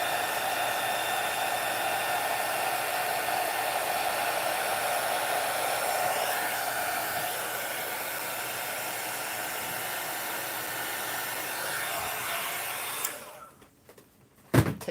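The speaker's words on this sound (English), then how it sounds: "Tell you what, buy you a heat gun." A heat gun blows hot air in a steady broadband rush while a boho hurricane vase is being crafted, continuous and close for about thirteen seconds before cutting off into a few faint clicks.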